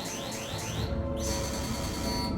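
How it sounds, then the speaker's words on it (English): Enemy missile lock warning in the space game Star Citizen: repeated rising electronic chirps, three quick sweeps then a brief gap and a sustained tone with fast pulsing, clear over a low background hum, no speech. "And when an enemy missile locks you, it sounds like this."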